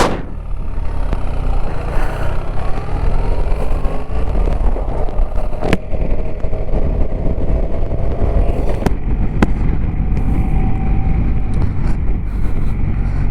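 BMW R1300GS motorcycle (2023) on the move, its engine a steady continuous drone buried under heavy wind rush across the microphone, with no talking.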